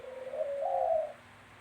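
A single soft dove coo, a brief low warbling call that rises slightly and fades, heard alone and fairly close.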